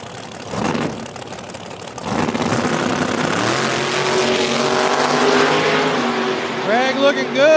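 Nitrous big-block and blower drag racing cars roar at a small-tire race at Beech Bend Raceway Park, engines loud and sustained with rising revs, while a commentator talks over them.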